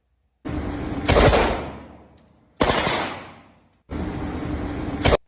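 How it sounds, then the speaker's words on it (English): A submachine gun fires downrange in three loud bursts, each opening with a sharp crack and tailing off in a ringing, echoing decay, with short gaps of quiet between them. "as he's firing a submachine gun downrange"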